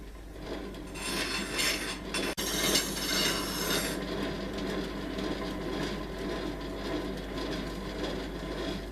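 Steady rasping strokes as a Westgate Grafton planer thicknesser blade is sharpened by hand, with a brighter, harsher scraping burst in the middle before settling back to a continuous close rubbing grind.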